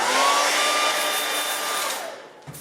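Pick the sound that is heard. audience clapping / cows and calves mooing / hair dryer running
hair dryer running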